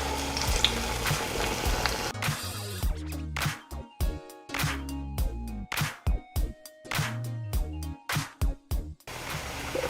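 Medu vada, fritters of urad dal batter, sizzle in hot oil. The bubbling comes in uneven bursts over a busy kitchen background, with no speech.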